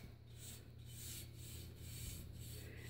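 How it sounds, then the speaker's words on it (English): A paintbrush drags chalk paint along a repurposed headboard in long, even strokes, each a soft, quiet rubbing swish repeating at a steady rhythm. "I'm painting it and it's coming out like streaky"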